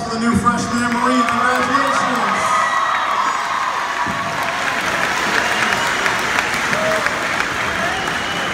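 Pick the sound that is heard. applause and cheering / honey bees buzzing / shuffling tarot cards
applause and cheering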